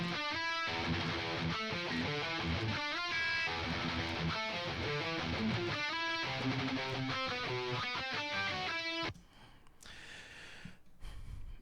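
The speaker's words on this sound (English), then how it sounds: "Overdrive pedal into a 5150, into a V30 speaker cab." Raw metal rhythm guitar from an amp simulator, an overdrive pedal into a 5150 amp and V30 speaker cab, chugging heavily distorted palm-muted riffs that stop abruptly near the end, leaving faint noise.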